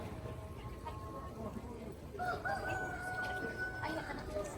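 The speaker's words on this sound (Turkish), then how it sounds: "Tavuk ötüyor ama horoz az sonra kesecekler ona haberi yok horozun." A rooster crows from a distance in Safi, Morocco, a long drawn-out call rising over busy outdoor background noise.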